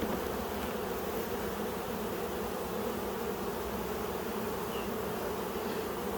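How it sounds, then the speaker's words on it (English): Honeybees swarm over a frame pulled from a nuc hive and give off a dense, steady buzzing drone throughout, close and loud, with no voices. "There's quite a few bees on it right now."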